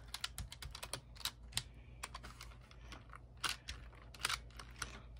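Fast, crisp key clicks come from typing on a HyperX Alloy Origins keyboard. The strokes are uneven and closely spaced over a low steady hum, close and moderately quiet.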